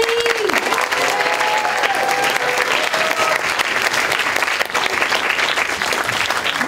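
Steady, dense applause from a large audience at a college sustainability summit, filling the whole clip at a constant loud level, with a few faint voices and whistle-like tones riding on top.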